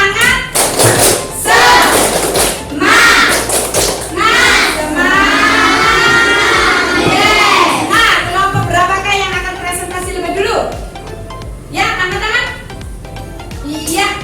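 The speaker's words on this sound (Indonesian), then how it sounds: "untuk lebih semangat anak-anak kita tepuk semangat dulu yuk" A class of children in an Indonesian classroom performs a rhythmic clapping chant, with sharp claps in patterned bursts between loud, sung group voices, close and energetic.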